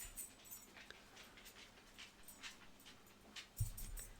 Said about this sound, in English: Miss Keeks says woof woof.